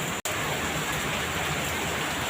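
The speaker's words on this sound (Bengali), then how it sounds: "খুব জোরে বৃষ্টি হচ্ছে" Heavy rain pours down in a steady, dense, loud hiss of drops, unbroken apart from one tiny gap near the start.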